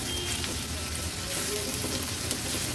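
Medium-size chopped onion frying in oil on a low flame, a steady close sizzle and crackle throughout with faint stirring, no talk.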